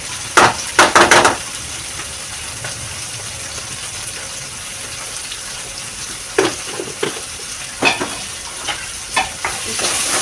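Onions frying in hot oil with chili powder being stirred in, a steady close sizzle broken by a few sharper scraping stirs near the start and again later.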